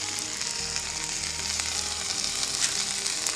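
Masala-coated fish, filled with coconut milk and wrapped in banana leaf, frying in a pan Kerala style: a dense, continuous close-up sizzle with faint crackles, no voices.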